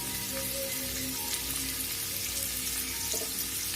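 Onions and chilli fry in hot oil for a tapioca stir-fry, a dense, even sizzle that stays close and loud, with faint stirring and no one speaking.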